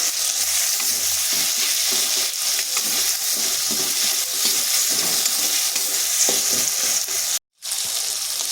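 Chopped tomato with a little salt fries in a pan, giving a loud, steady sizzle with occasional stirring scrapes throughout and one brief dropout near the end.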